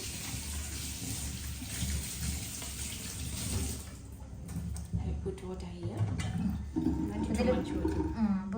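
Water runs from a tap in a steady hiss while cut pumpkin pieces are washed, then the flow thins into splashes and clatter as a voice talks over it.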